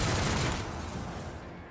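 Gunfire in the video game Warhammer 40k Rogue Trader, a loud burst of rapid overlapping shots that starts dense and tails off into a fading rumble over a couple of seconds.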